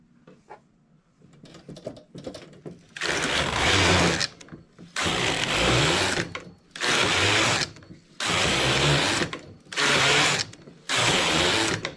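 A knitting machine knits tubular rows, its carriage swept back and forth in six loud, rattling, clicking passes of about a second each, separated by brief pauses.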